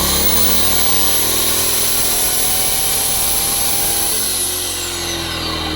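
An electric saw and drill powered by a BLITZ generator whine together loudly and steadily, a harsh mechanical buzz that barely changes, with no talking.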